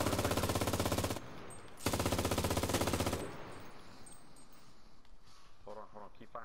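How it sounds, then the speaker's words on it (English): Rapid automatic gunfire in a PlayStation 4 shooter game, two loud sustained bursts of about a second each, then quieter game ambience with a voice coming in at the end. "Keep firing."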